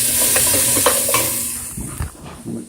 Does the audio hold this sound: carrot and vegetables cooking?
yes